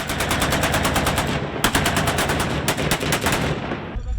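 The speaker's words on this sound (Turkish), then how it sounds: "Silah sesleri uzun süre kesilmedi." Sustained bursts of rapid automatic gunfire during armed clashes in Suwayda, Syria, dense cracking shots repeating in quick rhythm with brief pauses, loud and close.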